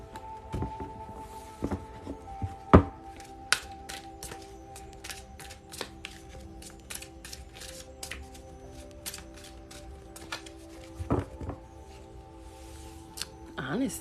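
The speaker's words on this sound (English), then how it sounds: "I'm going to shuffle this one a little bit more." Tarot cards shuffled by hand, close and crisp, with irregular riffles, taps and sharp snaps spread over about fourteen seconds and a few louder clacks among them.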